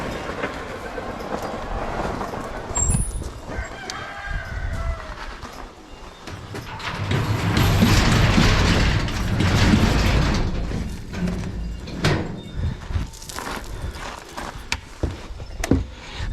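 An ATV engine idles and runs in gear out in a pasture, a steady mechanical rumble with rattling, clanking drivetrain noise that swells louder midway through, with no talking.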